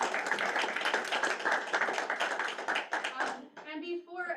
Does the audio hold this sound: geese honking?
no